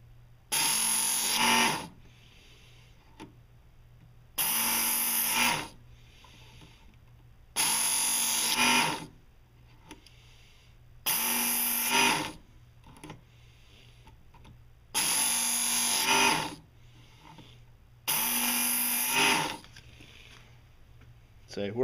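A Work Sharp knife and tool sharpener runs its sandpaper belt against a knife blade, grinding in six evenly spaced bursts of rough, whirring abrasion, each lasting a second or two and separated by quiet pauses.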